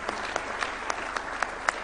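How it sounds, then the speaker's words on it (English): A crowd at a State House address in Kenya applauds the president, making steady, dense clapping with a few louder individual claps popping out at regular intervals. "Another round of applause for His Excellency."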